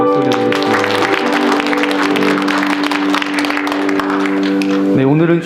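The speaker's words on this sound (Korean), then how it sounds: "이곳에 불러주신 하나님께 영광의 박수 올려드리겠습니다." A church congregation applauds at a Thanksgiving Sunday service. The clapping is loud and sustained, mixed with sustained musical tones, probably organ or keyboard, that shift pitch near the end.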